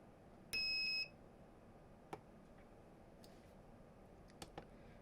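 One short, shrill electronic beep from the buzzer of an Aifen A902 dual-channel soldering station, followed by faint clicks in a quiet room.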